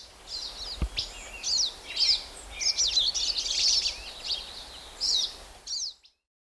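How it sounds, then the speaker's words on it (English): An American goldfinch sings a high, twittering series of short warbled phrases and chirps, moderately faint against a soft outdoor background, then falls silent. "American goldfinch."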